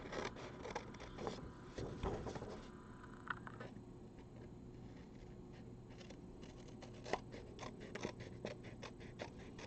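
Scissors trim a glued-down piece of material in a quiet room, giving a run of soft, close snips and scrapes with a few sharper cuts.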